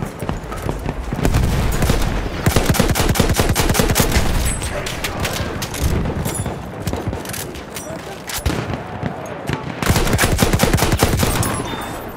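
Loud, sustained rifle and machine-gun fire crackles through a Battlefield 1 World War 1 battle, with dense rapid shots, distant booms and brief lulls between volleys.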